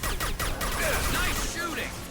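Rapid gunfire from a firefight in Mass Effect Legendary Edition, dense and loud throughout, with overlapping bursts and impacts and a voice briefly talking beneath the shooting.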